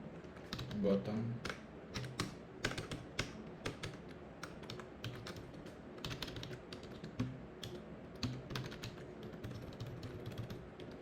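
Rapid clicking of keys on a computer keyboard, irregular bursts of typing close up, with a person talking quietly over it.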